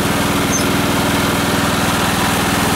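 Cub Cadet mower with an MTD-built chassis and Kohler Command 18 hp engine runs steadily close by, a loud, even, rapidly pulsing engine drone with no talk over it.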